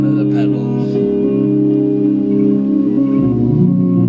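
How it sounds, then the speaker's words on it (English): Electric guitar lead line shaped by a reverse-effect pedal, soft swelling notes over a steady sustained harmonic backing, subtle and continuous throughout. "Okay, now here's a reverse guitar"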